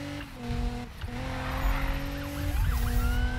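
A police car siren wails in a Need for Speed drift race, rising and falling tones with a wobbling yelp, layered over a loud car engine and rumble of tires.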